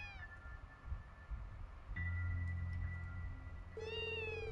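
A cat in the video game Trails From Zero meows several times, rising tonal calls over soft game music and ambience, fairly close and clear.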